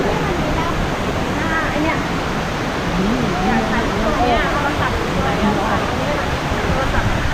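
Steady roaring rush of falling water at Sai Yok Noi Waterfall in Thailand, loud and constant, with faint voices buried in the noise.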